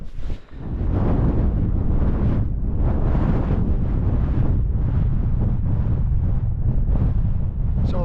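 Strong wind buffets a microphone on a cloudy mountain summit above 3000 ft in England's Lake District, a loud, continuous roar with gusty surges and no voices.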